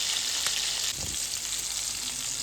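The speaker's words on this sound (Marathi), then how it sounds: "असे खेकडे फ्राय करून एकदम जबरदस्त." Freshly caught river crabs fry in a pan with a steady, close, hissing sizzle, briefly stirred partway through, with no talking.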